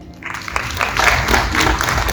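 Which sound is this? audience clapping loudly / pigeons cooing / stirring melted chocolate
audience clapping loudly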